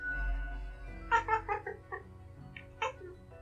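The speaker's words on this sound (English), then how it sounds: "The cat repeats a sequence of contented meows." A cat in the video game Death and Taxes gives a short run of soft, contented meows, several rising chirpy calls close up over a faint low hum, no speech.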